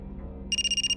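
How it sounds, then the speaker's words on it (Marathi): A phone rings in a Marathi TV serial scene, a sudden close electronic trill starting halfway through in rapid regular pulses over a low background hum. "विक्रांतचा फोन आहे"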